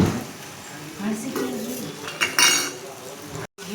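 Pasta being mixed in a pan, with close scraping and clinking of a utensil against the pan and a few louder knocks.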